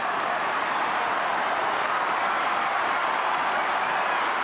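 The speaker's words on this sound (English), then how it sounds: "Crowd roaring at AAMI Stadium." A large stadium crowd at AAMI Stadium roars through a 2004 AFL match between Carlton and Adelaide, a broad continuous wash of noise with applause mixed in, steady and loud from start to finish.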